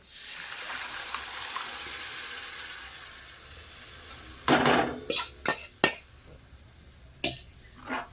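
Tomato-potato puree with spices going into a hot pan for homemade pav bhaji, a soft fading sizzle followed by several loud spoon scrapes and clanks against the pan as it is stirred.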